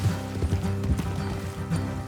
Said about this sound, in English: You think this horse is a nag?